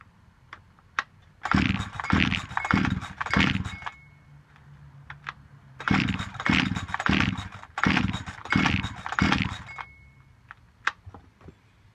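Dolmar chainsaw engine freshly cleaned at the carburetor, revving loudly in repeated bursts of several quick throttle blips, with short idle pauses in between, close up and alone.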